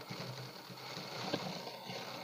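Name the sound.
sewing machine stitching a pajama seam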